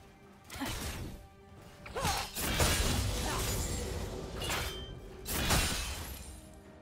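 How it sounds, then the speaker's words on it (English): A turret crumbling in League of Legends: a loud crashing, shattering collapse with heavy rumbling debris that swells and fades in waves over several seconds, close and dense with no voices. "Red Team's turret has been destroyed."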